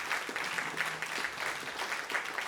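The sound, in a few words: audience applause for panelists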